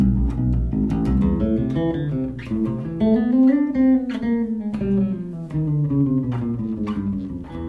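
An electric bass plays a melodic run from Beethoven's Für Elise, a line of distinct, clearly articulated notes that rise and fall, loud and close with no talking.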